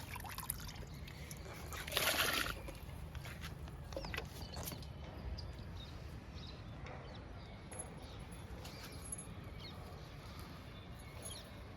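Homemade kitchen-waste liquid fertilizer is poured from a mug onto a large potted plant outdoors, a faint trickle and splash with a brief louder gush early on, then a low steady dribble under background hiss.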